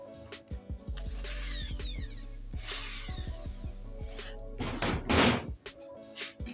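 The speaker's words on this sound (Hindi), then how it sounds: "अभी फिर से मैं एक नया होल करूँगा।" A power drill bores a fresh hole, running in repeated whirring bursts with clunks and knocks between runs, close and fairly loud.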